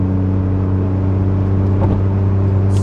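A Mitsubishi 3000GT engine holds one gear at high revs without upshifting, a loud, steady droning whir that stays level throughout with no talk.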